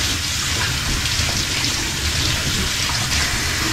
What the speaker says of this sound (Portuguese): Deixa eu passar uma água nela, né?